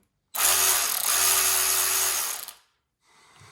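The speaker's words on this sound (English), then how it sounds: "Overall, still a fairly good ratchet for the money." Milwaukee M12 cordless ratchet spinning, a steady close motor whir with a high grinding buzz lasting about two seconds before winding down, then a faint brief rattle.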